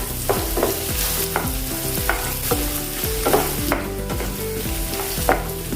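Finely chopped carrots sautéing in a pan with a continuous sizzle, while a spoon stirs and scrapes at a steady rhythm, with a few louder clinks along the way.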